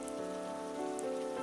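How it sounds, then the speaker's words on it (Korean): Rain falls in a soft, continuous patter on a summer day, heard beneath gentle sustained music. "내리는 빗소리를 들으며"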